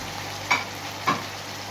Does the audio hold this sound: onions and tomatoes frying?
yes